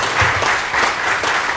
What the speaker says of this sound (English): let's clap for him as he comes over